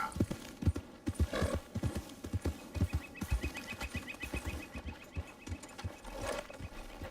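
A horse's hooves clip-clop at a steady trot in the video game Red Dead Redemption 2, a rhythmic run of close thuds with a brief whinny woven in, moderately quiet and without talk.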